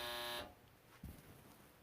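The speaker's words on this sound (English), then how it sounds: "Well, you heard the buzzer." A brief, faint electronic buzzer sounds at the start, a flat harmonic blare that cuts off after under half a second, leaving quiet background.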